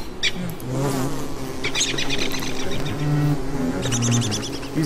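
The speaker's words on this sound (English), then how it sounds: "These bees are making me kind of like paranoid for some weird reason." Bees buzz in the video game Don't Starve Together, a steady droning hum with overlapping insect whines and faint chirpy tones, loud and continuous throughout with no talk.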